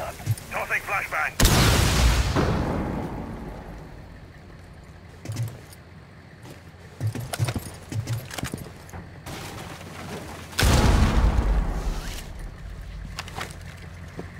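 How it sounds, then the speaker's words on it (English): A flashbang grenade detonates in Rainbow Six Siege, two loud broadband blasts several seconds apart amid gunfire and clattering game noise, with voices over team chat. "Tossing flashbang."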